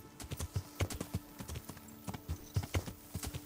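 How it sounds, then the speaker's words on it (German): Horse hooves clip-clop in the video game Kingdom Come: Deliverance as a rider travels along, giving a steady, moderately quiet run of hoof strikes with no talk over it. "Aber ich reite jetzt wieder zurück."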